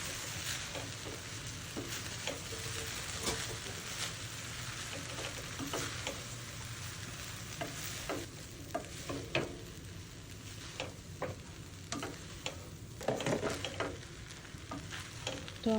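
Vegetable pulao rice with mushrooms is stirred in a frying pan: a steady, close sizzle runs throughout, broken by repeated scraping and clinking strokes of the spoon at an uneven rhythm.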